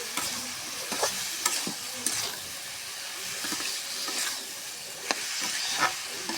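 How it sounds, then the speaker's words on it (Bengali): A spoon stirs ginger, garlic and cumin spice paste frying in a pan, with steady sizzling and repeated scraping strokes, close and moderately loud, with no talking. "এবার ভালো করে সবকিছু একসঙ্গে মিশিয়ে নেব।"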